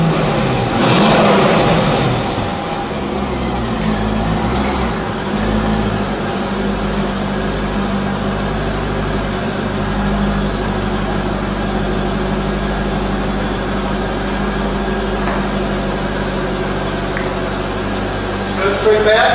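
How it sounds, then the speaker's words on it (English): A car slowly reverses onto a base mat for a CarCapsule bubble cover, its engine running at a steady mid-pitched idle with a brief rev near the start, while a person's voice talks over it throughout. "we're going to go ahead and back this car up onto the base mat"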